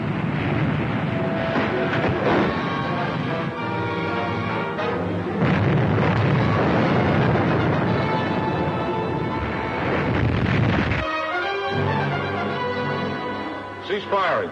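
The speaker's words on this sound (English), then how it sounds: "Fire. Commence firing." Naval guns firing at a ship in a vintage film serial battle scene, heavy booming blasts and rumble layered with dense orchestral music, loud and continuous with shouted voices briefly heard.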